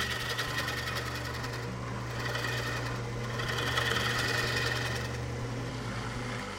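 A wood lathe drones steadily as it turns a bowl under aggressive cutting, a continuous motor hum with rough rasping texture layered over it and no voices.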